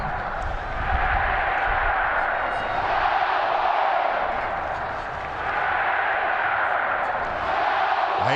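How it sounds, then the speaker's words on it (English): A college football stadium crowd at a BYU versus Texas Tech game roars and cheers continuously, a dense distant wash of voices that swells and dips over several seconds. "you can hear the crowd now as they are going at it"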